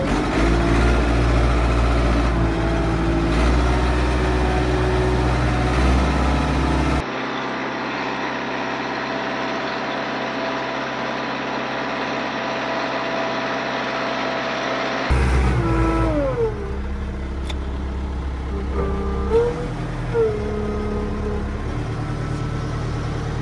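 A truck engine idles and then drives in reverse with its bucket raised, a steady low rumble that drops to a quieter hum midway before revving back up with shifting tones near the end.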